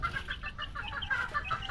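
Young chicks in a farm setting cluck and peep in quick, repeated bursts, close by and fairly loud, with no one talking.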